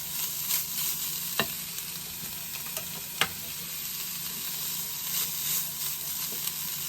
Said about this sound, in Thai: ปิดไฟแล้วก็ปรุงรสเลยนะ จะคลุกลงไปเลยนะ